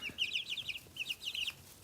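Young chicks in an indoor brooder cheeping in quick bursts of high, bright peeps, two clusters of overlapping calls close by but fairly soft, with no talk over them.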